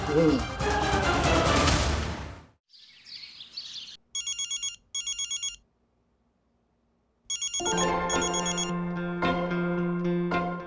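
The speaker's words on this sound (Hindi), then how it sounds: "तुमने सेम रिंगटोन क्यों रखी है? मुझे लगा मेरा फोन बज रहा है" A phone ringtone chirps in short repeated bursts after a stretch of talk and music, then sounds again as a melody plays loudly.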